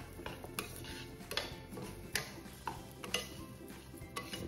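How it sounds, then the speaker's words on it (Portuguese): Rice toasting in fat in a pan for a lemon and leek risotto, with repeated stirring scrapes and utensil clinks against the pan and a faint sizzle underneath, close by and steady. "Como se a gente estivesse fritando o arroz até que essa partezinha branca desapareça e ele fica transparente ou perolizado."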